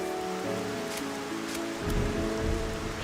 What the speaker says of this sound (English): I'm glad it was raining. It really added to the scene.